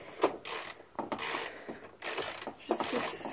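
A ratcheting hand tool tightens bolts on a Mazda 323F gearbox in quick bursts of rapid clicking, several short runs separated by brief pauses, close and fairly loud.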